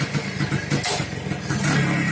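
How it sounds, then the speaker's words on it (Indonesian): A Yamaha RX-Z motorcycle engine revs during a test ride, a close, steady mid-pitched roar with slight surges in throttle throughout. "ini ada konsumen mau ngetes motor RX-Z"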